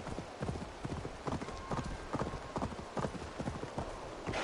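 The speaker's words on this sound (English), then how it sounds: "Yeah, there's a horse." Horse hooves clip-clop in a steady rhythm in Assassin's Creed Valhalla, close and fairly quiet, with a brief whinny-like sound and no talk over it.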